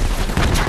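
A Semtex grenade detonates in Call of Duty Black Ops 3, giving a loud, close, short burst of broadband explosive noise with a deep low rumble and no talk over it.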